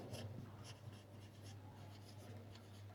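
Pen or pencil scratching steadily across paper while an English sentence is written out, a close, continuous scribbling with short strokes and pauses over a low steady hum.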